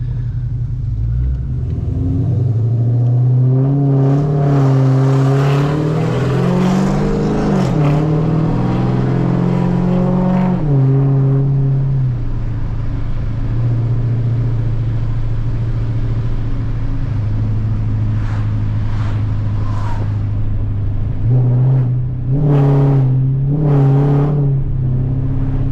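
A Dodge Challenger SRT8's engine rumbles loudly with a deep aftermarket exhaust note, revving up and settling into a steady drone, with a couple of sharp blips of throttle near the end.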